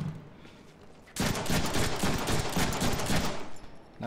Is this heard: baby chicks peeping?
no